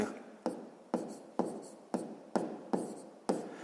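A pen or pencil writes numbers by hand for a sixth-grade math exercise. Regular scratchy strokes repeat about every half second, close and fairly quiet.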